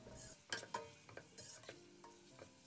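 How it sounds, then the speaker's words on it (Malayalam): Onions sauté in coconut oil for a Malabar-style chicken biryani while a spoon stirs them, producing soft sizzling and a series of light scraping clicks against the pan, faint and close. "അതിലേക്ക് ബാക്കിയുള്ള ഓണിയനും ഇട്ട് നന്നായിട്ട് വഴറ്റിയെടുക്കണം."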